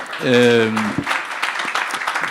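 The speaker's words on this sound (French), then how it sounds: "je vois que vous applaudissez" A brief sustained voiced tone gives way to a conference audience clapping steadily, a dense patter of many hands continuing to the end.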